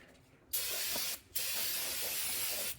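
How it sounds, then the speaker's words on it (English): Two close, loud bursts of aerosol brake cleaner hiss onto a brake rotor of a Mercedes-Benz Vito, the first short and the second longer, with a brief pause between. "spray this down with brake clean"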